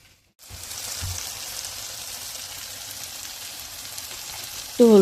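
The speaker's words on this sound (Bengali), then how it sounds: "পেস্ট করা মরিচ, পেঁয়াজ, রসুন একসাথে পেস্ট করে নিছি। এগুলি আমি এখন একটু কষিয়ে নেব।" A ground paste of chilli, onion and garlic with salt fries in a pan, a faint, even sizzle starting after a short silence and holding steady, with a brief louder tonal sound at the very end.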